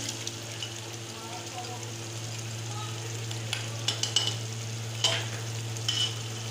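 Yogurt being stirred into thick haleem in a pan, a steady soft sizzle with a few scraping clicks near the end over a constant low hum.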